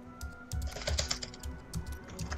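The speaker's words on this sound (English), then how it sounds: "Oh, I have two enters on my keyboard." Computer keyboard keys, mostly Enter, are hammered rapidly while waiting to log into Diablo 3: close, crisp clicks come in quick uneven bursts, with no talking.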